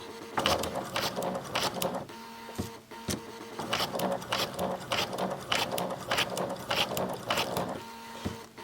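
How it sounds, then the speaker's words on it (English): A sewing machine stitches ribbon down onto a garment, running in close, steady rapid bursts with brief stops in between. "Okay, so I'm sewing down the ribbon"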